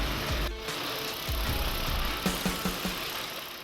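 A New Holland T4.85 tractor engine runs after starting, giving a low, steady rumble close by with a few knocking pulses near the end before it cuts off.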